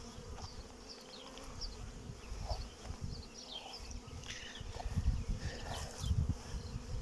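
Carniolan honey bees buzz at the hive, a soft continuous drone of many insects with individual bees flitting past close by, fairly quiet throughout.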